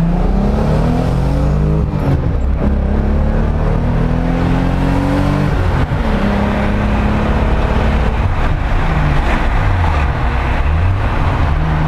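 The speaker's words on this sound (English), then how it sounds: "That was a first gear pull to third gear." A naturally aspirated Nissan 300ZX accelerates hard from first through third gear, its engine note climbing steadily and dropping at each shift, loud and close from inside the car with road noise beneath.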